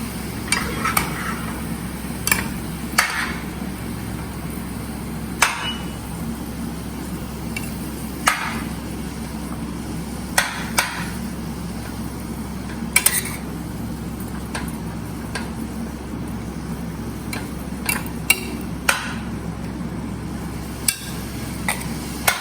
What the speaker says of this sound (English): Then you stir.